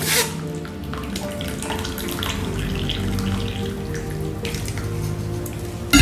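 Onion and garlic broth poured through a strainer, a steady close stream of splashing liquid with light drips, running continuously for several seconds.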